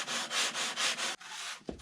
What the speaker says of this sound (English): by sanding the sides, I've established the top view